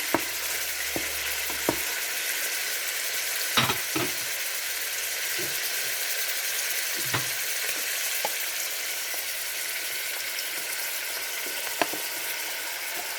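Diced onions sizzle steadily in a pan alongside browned veal paupiettes, a continuous frying hiss broken by a few sharp clacks of a spoon stirring them.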